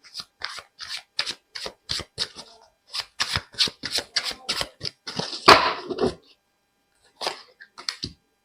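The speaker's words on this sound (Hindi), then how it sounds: "पहले मैं कार्ड्स निकाल लेती हूँ।" Tarot cards shuffled and drawn by hand in a run of crisp, rapid riffling flicks and slaps, close and fairly loud, with short pauses between bursts and a few soft taps near the end.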